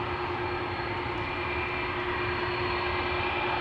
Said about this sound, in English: That's CF6s that you hear.